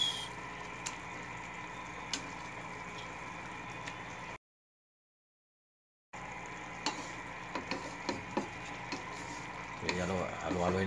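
Boneless bangus milkfish sizzling in hot oil in a pan while being stirred, a steady frying hiss with occasional scrapes and ticks, broken by a short silent gap, with brief faint voices near the end.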